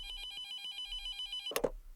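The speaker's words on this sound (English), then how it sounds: "Professor Tim Noakes, the phone rings" A telephone on a desk rings with a bright, rapid electronic trill, repeating steadily and fairly faint, before a sharp clatter of the handset being picked up cuts it off.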